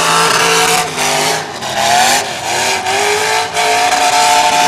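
A race car engine roars on a track, loud and close, its pitch climbing and falling in repeated surges as the car accelerates and eases off, with no talking.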